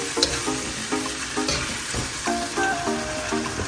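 Sweet and sour pork with rice and peas fries in a pan, a steady close sizzle with scraping, clattering stir strokes, no voices.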